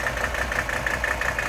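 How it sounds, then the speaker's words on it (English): A 1982 Mercedes-Benz 300SD diesel engine idles with a steady, slightly knocking rumble, close and continuous for a short stretch with no voices. "let you get a quick peek at it running here"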